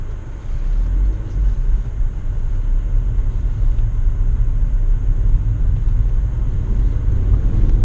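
A 2016 Subaru Levorg GT-S on the road, heard as a steady low engine and tyre rumble from inside a quiet cabin, even and continuous throughout with no talking.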